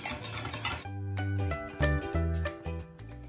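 Butter being stirred into lemon curd mixture in a pot, a utensil clinking and scraping against the pan in short repeated strokes, close and fairly loud, with no voices.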